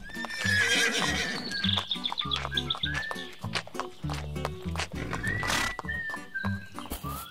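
Cartoon horses on a farm neigh and whinny several times over steady clip-clopping hooves, loud and close, mixed with bright background music.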